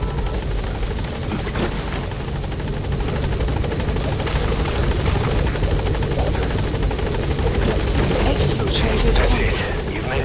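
Pequod helicopter from Metal Gear Solid 5 The Phantom Pain, rotor drone roaring steadily and loud throughout as it climbs, with a voice talking over the engine noise.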